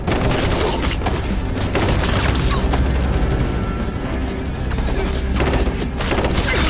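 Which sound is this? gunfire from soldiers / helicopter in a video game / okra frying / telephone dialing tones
gunfire from soldiers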